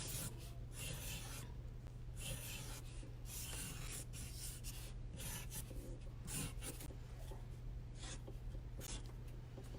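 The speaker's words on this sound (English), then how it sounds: "So I'm just tracing everything that I've already done." Pen or pencil tracing over a watercolor puppy drawing on paper makes faint, continuous scratchy rubbing strokes in irregular bursts, close and quiet, with no voices.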